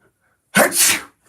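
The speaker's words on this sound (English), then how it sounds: "I sneezed right there." A single loud sneeze, sharp and close, bursting out of silence with a brief breathy follow-through.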